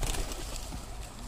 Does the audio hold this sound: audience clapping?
no